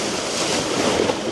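Strong wind and waves on the Baltic Sea during herring fishing, a loud close rush of surf with wind buffeting the microphone and no voices.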